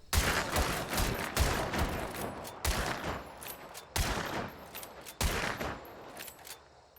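A Ranger rifle in the game Hunt: Showdown fires five or so loud shots in quick, steady succession, each followed by lever-action clatter and reverberating tails, with no voices.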